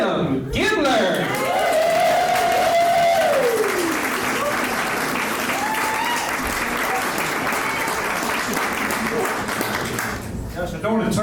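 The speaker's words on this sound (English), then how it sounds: "I just want you to clap for me forever" Sustained audience applause and cheering greet a stand-up comedian at his set, loud and continuous for about ten seconds before fading slightly, with a voice heard briefly over the clapping.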